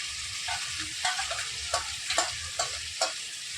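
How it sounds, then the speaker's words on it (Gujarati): Ginger garlic paste frying with onions and tomatoes in a pan for pav bhaji gives a steady close sizzle, broken by several sharp scraping clicks of stirring spaced through it. "હવે આપણે તેમાં આદુ અને લસણની પેસ્ટ નાખી દઈશું।"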